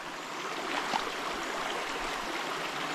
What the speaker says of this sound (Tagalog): maganda po ang ating ilog